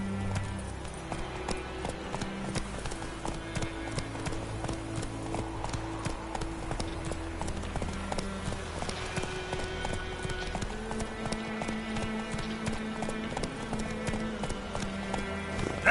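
Roach, a horse in a video game, galloping with fast, rhythmic hoofbeats that run steadily throughout, set against a continuous musical score with sustained tones.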